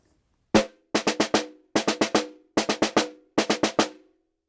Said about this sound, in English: we have the skeleton of an eighth note roll that happens